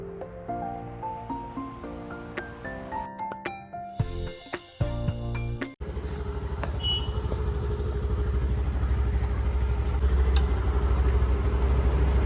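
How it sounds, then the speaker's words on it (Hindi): A scooter ridden through traffic in Almora sends up a steady, loud engine drone mixed with wind rush that continues without a break, following a stretch of melodic music. "इसलिए हम स्कूटी से जा रहे हैं।"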